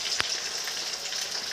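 Tocino, a sweet cured pork, sizzles faintly in a frying pan as it is stirred, with a soft steady crackle and one sharp pop near the start.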